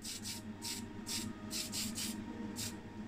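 Short hissing bursts of Tamiya fine spray paint hitting a small die-cast Matchbox Ford station wagon model, repeated in quick puffs over a low steady background hum, close and fairly quiet.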